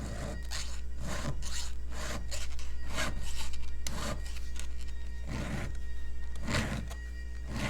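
A metal file sharpening a chainsaw chain held in a vise rasps in steady, repeated strokes, each a short scraping pass, close by with a low hum underneath.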